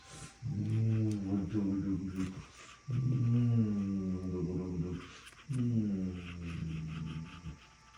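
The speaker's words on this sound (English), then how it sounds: "There's my dog here." A dog giving three long drawn-out whining howls, each a few seconds long and rising and falling in pitch with short pauses between, close and clear with no talk.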